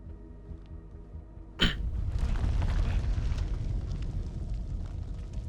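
Video game gunfire in House of Ashes: a sudden loud blast cracks out, followed by a sustained heavy rumble and crackling din that stays loud to the end.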